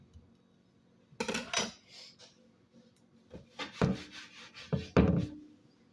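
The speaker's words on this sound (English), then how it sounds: "Get our onion chopped up real quick." A knife cuts through an onion on a board in a home kitchen, making several quiet, irregular thumps and scraping slices with pauses between.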